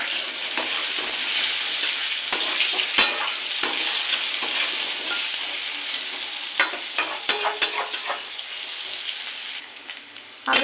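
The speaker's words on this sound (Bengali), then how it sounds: "আলুটাকে ভেজে নেব।" Potato pieces fry in oil left from frying fish, with cumin seeds added, giving a loud, even sizzle close up, broken by repeated clacks of a spatula stirring against the pan.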